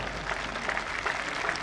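Applause from a school annual-day audience at a gurukul, a steady, dense patter of clapping hands that fills the space without a break, with a faint voice or two underneath.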